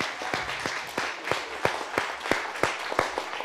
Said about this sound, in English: give a round of applause for Danielle Mollinski.